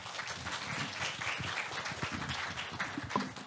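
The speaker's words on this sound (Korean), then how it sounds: "좋은 발표해 주신 김상준 교수님께 다시 한번 박수 부탁드리겠습니다" A symposium audience at a Seoul National University medical research event applauds a professor after his talk, a moderate, continuous clapping with faint murmurs underneath.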